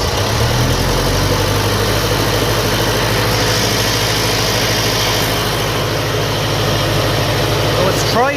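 A 1957 Ferguson FE35 tractor with a TVO engine, switched to petrol, cranks and runs as a loud, steady, close rumbling chug throughout, with a brief higher whine near the end.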